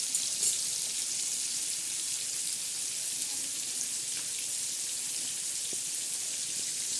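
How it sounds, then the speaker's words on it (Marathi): Mackerel frying in hot oil, a steady soft hiss and crackle with faint pops, continuous and even throughout, moderately quiet and without talk. "भरपूर असे खमंग असे मस्त तळत आणतात"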